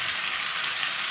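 Stir-fried rice sizzling steadily in a hot pan as soy sauce is added, a close, even crackle and hiss with no pause and no voices.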